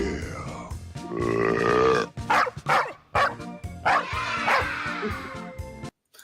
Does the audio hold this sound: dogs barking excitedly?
yes